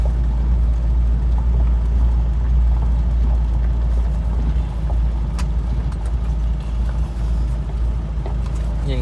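Steady, loud low rumble of an off-road rig's engine crawling along in four-wheel-drive low, a continuous drone with faint clanks and knocks over it, heard close throughout.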